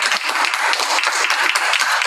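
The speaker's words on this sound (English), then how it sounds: "Let's give me a round of applause here" A classroom group claps together at the end of a class session: a dense, steady round of many hands, fairly close, with no pauses and no voices over it.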